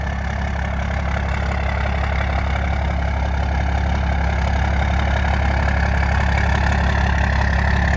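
A 1993 Dodge W350 pickup with a 12-valve Cummins diesel engine idles steadily and loudly up close, a constant low throbbing rumble with no talking.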